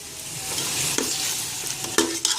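Goat trotters roast in a pan with a steady close sizzle, broken by a few sharp scraping stirs of a spoon.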